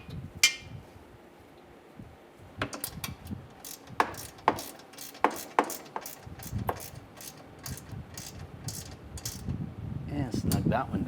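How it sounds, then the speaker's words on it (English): A ratchet wrench clicks in quick, uneven runs while snugging a nut in the fender well of a Dodge Dart, sharp metallic ticks close by, followed by rustling and handling of parts. "Just use a ratchet wrench."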